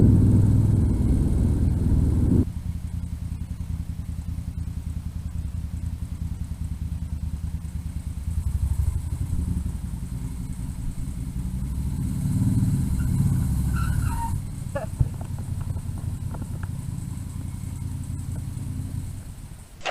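A 1973 Moto Guzzi V7 Sport being ridden, its engine a steady low rumble that lifts briefly as it picks up speed, heard close and alone without talk.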